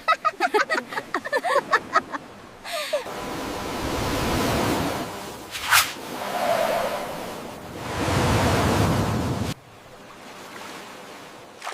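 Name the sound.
ocean waves at the beach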